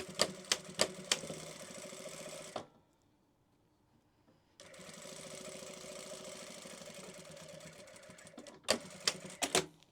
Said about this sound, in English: Make sure it all lines up and sew again.